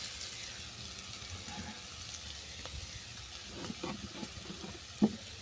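Beans and grated potato fry in a pan with a steady low sizzle, faint stirring scrapes and a small clink near the end, no voices.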